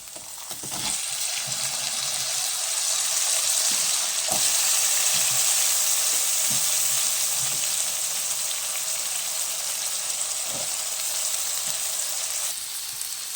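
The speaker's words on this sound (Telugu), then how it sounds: "ముందుగా కట్ చేసి పెట్టుకున్నటువంటి ఆలు ముక్కలు ఇందులో యాడ్ చేసుకోవాలి." Potato pieces frying in oil in a curry pan with capsicum and tomato: a steady, loud sizzle that holds for most of the clip, with a few soft clicks of stirring, and no talking.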